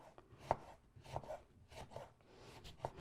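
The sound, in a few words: knife slicing lemon on a cutting board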